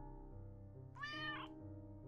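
A cat meows once in the point-and-click video game Children of Silentown, a short, clear meow rising over steady game background music.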